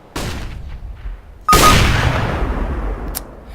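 Two sharp gunshot blasts from an AWP sniper rifle in a video game, a lighter crack followed a second later by a loud booming report that decays slowly, then a brief metallic click.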